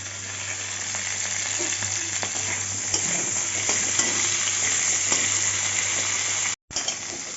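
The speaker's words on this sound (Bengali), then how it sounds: "ফুলকপি দিয়ে দিচ্ছি ফুলকপিটা একটু ভেজে নেব হালকা করে" Cauliflower stalks with potatoes fry in a hot pan, giving a loud, steady sizzle with scattered stirring clicks throughout, then a short break near the end.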